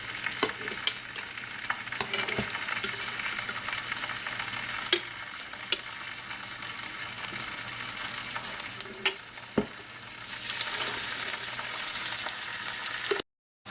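Pork pieces fry in hot oil with a continuous bright sizzle, punctuated by occasional clinks and stirring knocks, and the hiss swells louder near the end.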